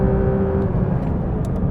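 A Porsche 992 GT3 RS engine on a race track, revved to 9000 rpm in second gear, gives a loud, steady, dense roar throughout, close and unbroken, with no voices.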